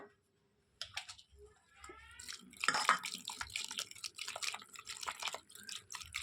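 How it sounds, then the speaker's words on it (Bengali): Grated potatoes are washed in plain water by hand, starting with a brief silence, then close, continuous sloshing and splashing with dripping. "এটা কালো হওয়ার আগে কিন্তু নর্মাল জল দিয়ে ধুয়ে নেবো ভালো করে"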